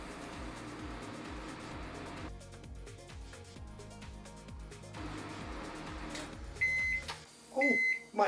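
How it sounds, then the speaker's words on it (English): A microwave oven heating a cup of tea hums steadily while running, then stops and gives a few loud electronic beeps to signal it is done. "it goes straight into the microwave"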